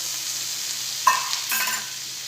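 Capsicum, onion and tomato are stirred in a kadai with a spatula. Two short scrapes stand out against a quiet background hiss, one sharp and one slightly longer.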